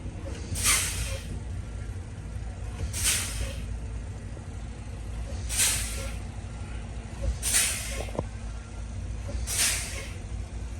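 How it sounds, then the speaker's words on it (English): A truck's air brakes are pumped repeatedly during a pre-trip air brake inspection, giving five evenly spaced sharp hisses of released air pressure about every two and a half seconds over a low idling engine rumble. "So I'm gonna go ahead and fan my brakes. As I do that, it drops my air pressure."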